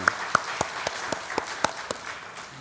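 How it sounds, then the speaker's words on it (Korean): A church congregation applauding together, with a loud and steady wash of clapping in which several sharp, close claps stand out at a quick rhythm. "우리 서로에게 박수 한번 합시다"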